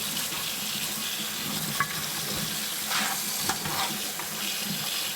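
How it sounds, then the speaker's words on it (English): Raw peanuts are washed in running water in a kitchen, a steady hiss of flowing water with soft clatters and splashes as the nuts are stirred. "Get them good and washed off."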